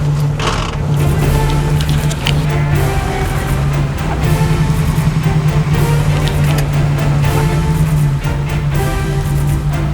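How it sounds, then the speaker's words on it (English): A Jeep's engine drones steadily and loudly for the whole stretch as it pulls the trailer of a Jurassic Park-style RV under restoration, with scattered creaks and scraping on top. "use the Jeep to pull the trailer 45 degrees that way"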